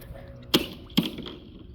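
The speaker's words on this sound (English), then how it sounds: "It just looked like a lot of ice broke." A rock strikes thick, strong pond ice twice, each hit a sharp, glassy crack about half a second apart, fairly close and moderately loud against quiet outdoor background.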